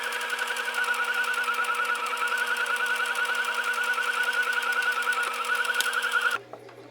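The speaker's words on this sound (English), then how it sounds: "To sew this, you're going to do the sides first and just go straight down." A sewing machine runs continuously while stitching down the sides of a ribbon, giving a fast, even, whirring chatter of needle strokes up close before it stops abruptly near the end.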